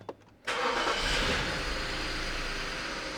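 A BMW F11 engine cranks and catches, then settles into a steady, close idle that continues to the end.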